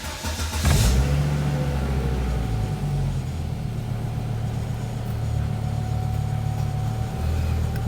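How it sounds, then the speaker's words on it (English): A 1996 Volvo 850 Turbo wagon engine starts with a brief crank, then settles into a steady, close idle that carries on without pause. "Vehicle is running"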